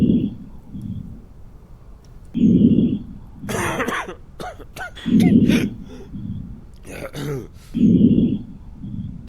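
Coughing heard through a stethoscope during a patient check in the video game Quarantine Zone: The Last Check, four muffled, low thumping bursts spaced about every two and a half seconds, with brief clicks and rustles between them.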